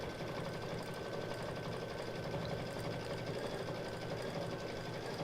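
An embroidery sewing machine stitching out a design, a fast steady mechanical whir and needle rattle running continuously at moderate level with no one talking.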